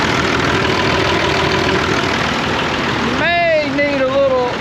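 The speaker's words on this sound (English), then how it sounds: "The Perkins engines on these tractors will be here long after the nuclear holocaust." A Perkins diesel engine idling on a 135 tractor, a steady low rumbling hum that runs continuously and close, with a voice talking over it near the end.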